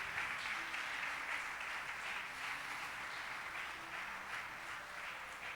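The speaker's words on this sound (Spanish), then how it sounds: "Den un aplauso a Dios" A church congregation at a Spanish-language service applauds in a steady, even patter that lasts several seconds, heard at a distance and fairly faint.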